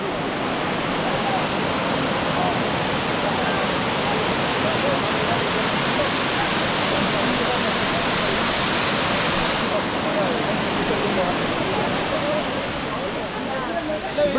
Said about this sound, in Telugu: ఇప్పుడు మీరు చూస్తున్నారు ఒకటో వాటర్ ఫాల్.